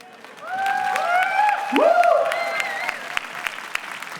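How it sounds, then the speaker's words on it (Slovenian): A packed outdoor square audience at a comedy performance bursts into applause with whoops and cheers, swelling quickly and then thinning to scattered claps. "Dajte mi malo zaploskati, prosim."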